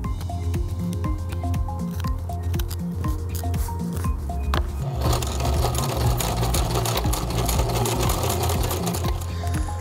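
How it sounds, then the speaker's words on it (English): A sewing machine stitches Velcro onto a glove for a costume build, running as a steady, close mechanical whir with rapid needle clatter that continues unbroken throughout. "just stitched it on with the sewing machine"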